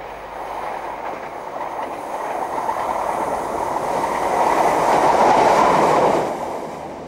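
A Class 158 train rumbles past under a three-arch bridge, its rolling clatter swelling gradually to a peak and then easing off, with no voices.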